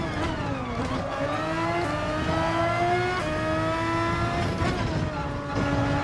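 The Red Bull X2014 race car's engine in GT Sport revs hard, its high tone climbing and dropping through quick gear shifts, loud and continuous with no talking.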